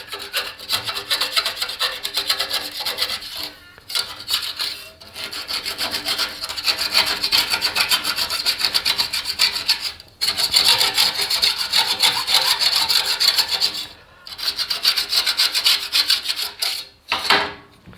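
A hand file rasps back and forth over metal burrs in steady, repeated strokes, close and continuous with short pauses between bursts, cleaning up the edge ahead of MIG spot welding.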